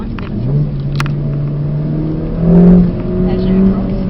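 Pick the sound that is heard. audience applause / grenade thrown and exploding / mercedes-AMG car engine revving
mercedes-AMG car engine revving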